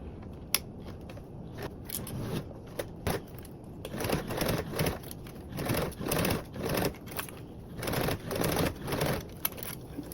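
A sewing machine runs in short bursts while top stitching around a fabric key fob, its rapid mechanical clatter starting and stopping in a rhythmic pattern, close and clear with no talking.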